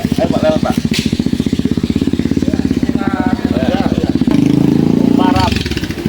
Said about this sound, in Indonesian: Nah, ada motor. Ayo Pak lewat Pak.